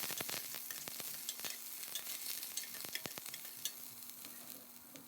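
Soft, continuous sizzling of chopped onion and curry leaves frying in oil, punctuated by frequent scraping and stirring taps from a utensil in the pan.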